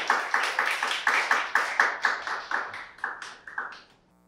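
Audience at a university startup pitch event clapping to welcome a team's presentation, with sharp, rhythmic claps in a steady beat that thin out and stop near the end.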